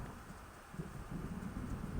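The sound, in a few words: approaching thunderstorm with rain in the video game Alan Wake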